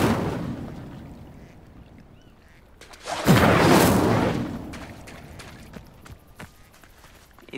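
A fire spell cast in the Hogwarts Legacy video game, a sudden loud burst that roars up and fades over about two seconds amid quieter ambient game sound, with soft footsteps and small clicks afterward.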